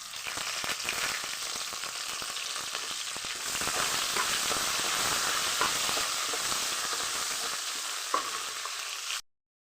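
Onions and curry leaves fry in hot oil, a loud, constant sizzle and crackle that swells partway through, then cuts off abruptly at the end; no one speaks.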